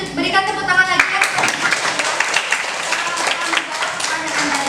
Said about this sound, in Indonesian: Berikan tepuk tangan lagi ya.